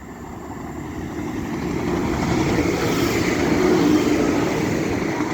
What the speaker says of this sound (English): The next train to be coming through will be a Class 195 from Leeds to Chester.